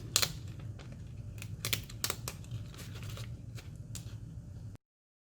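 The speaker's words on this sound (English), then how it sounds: "I'm gonna peel out all of the letters just with my fingers." Infusible ink letters being peeled off their backing sheet by hand, heard as close, sharp crinkly tearing and rustling bursts scattered over a few seconds, with no talking.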